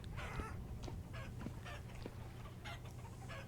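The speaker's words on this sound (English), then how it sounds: "let me show you what was making the commotion. We have a family of chickens" A family of chickens in a video game clucks and squawks in short, repeated bursts, fairly close, over a low steady background hum.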